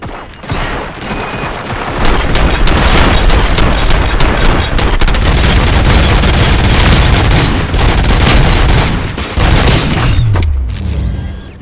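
Dense, loud gunfire and explosions in the RoboCop: Rogue City video game, a continuous barrage of booms and mechanical clatter lasting about ten seconds before tapering off.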